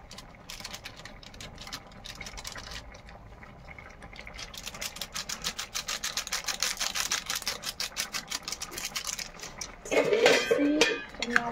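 Maggi noodles with masala spices are stirred in a pan, giving a fast, rhythmic run of scraping clinks that grows louder and ends in a busier burst of clatter.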